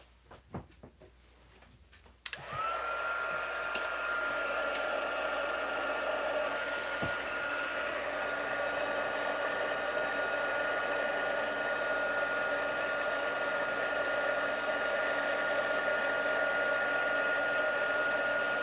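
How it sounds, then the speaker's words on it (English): Electric heat tool blowing hot air onto embossing powder on a papercraft project, a steady loud whir starting abruptly after a few seconds of quiet handling noise and running continuously to the end, with no talking. "So who else heats their embossing from the back and who does it from the front?"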